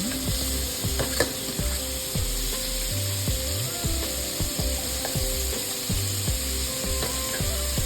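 Cut potatoes, tomato, elephant apple and onion fry in a pan for a pork boil, a steady dense sizzle with repeated scraping and rattling of a utensil stirring through it.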